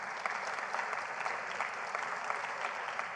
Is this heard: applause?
yes